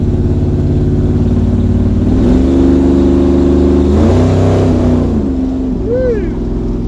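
Chevrolet 383 V8 exhaust exiting straight from the mufflers with no tips during a test drive, loud and close, revving up and down through several throttle swells with a short blip near the end.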